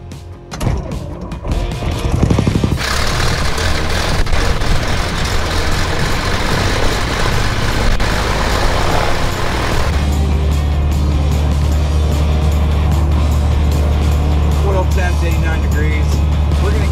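The engine of a small propeller airplane, sitting unused for about 15 years, cranks and catches. It builds into a loud, steady running drone and settles into a deeper, even rumble partway through.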